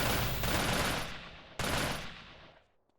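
Two bursts of rapid automatic gunfire in the video game Multi Theft Auto DayZ, each cutting in sharply and then decaying into a fading rumble.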